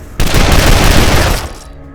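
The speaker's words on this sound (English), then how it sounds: "We'll fire at this guy." Gunfire in the Wasteland 2 video game: a sudden loud burst of shots starting abruptly and sustained for over a second before cutting off, dense and booming, with no talk over it.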